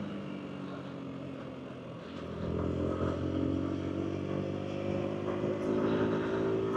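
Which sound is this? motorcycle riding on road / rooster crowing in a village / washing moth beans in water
motorcycle riding on road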